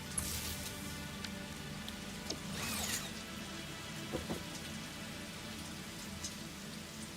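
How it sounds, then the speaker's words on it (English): Rain falling in the video game Satisfactory, a faint, continuous patter of drops with occasional brighter splashes and crackles, heard alone without speech. "Oh, it's raining."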